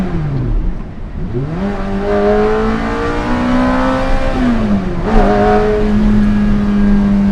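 A Ferrari F430 engine revs hard in race mode, its pitch climbing and dipping through gear changes, loud and close, with no talking.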